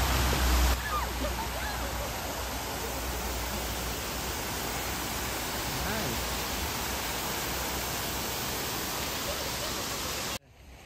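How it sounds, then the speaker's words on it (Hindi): A large water fountain at Crown Casino in Melbourne splashes outdoors, making a loud, continuous wash of water that holds steady for about ten seconds and then cuts off abruptly. A voice is briefly audible at the start. "Nice fountain, guys."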